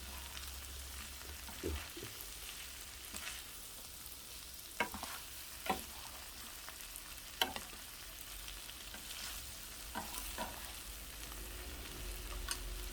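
Butterbur stems sizzle steadily in a pan as the broth cooks down, a constant close frying hiss broken by occasional sharp clicks and scrapes of stirring.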